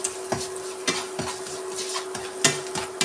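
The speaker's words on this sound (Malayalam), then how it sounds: "അതായത് വറ്റൽമുളക് ക്രഷ് ചെയ്തെടുക്കും" Dried red chillies are crushed for a chicken fry, giving irregular sharp knocks and scraping hits over a steady background hum, with faint sizzling underneath and no talk.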